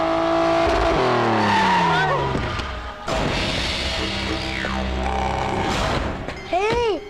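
A car is driven hard with its tires squealing and skidding in a film's climax chase, the loud screech rising and falling over engine noise, with a sharp jolt near the end.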